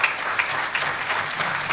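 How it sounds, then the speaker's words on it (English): Conference audience applauding a sponsor at a summit session: a steady, moderately loud round of clapping from a seated crowd, continuous with no talk over it. "Round of applause for them."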